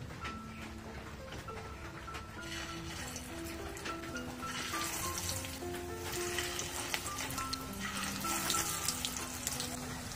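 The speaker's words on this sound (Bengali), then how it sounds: "এখন টিক্কাগুলোকে আমি একে একে গরম তেলে দিয়ে দিচ্ছি।" Pieces of beef tripe tikka hiss and crackle as they fry in hot oil in a wok, a steady dense sizzle running throughout with faint music-like tones underneath.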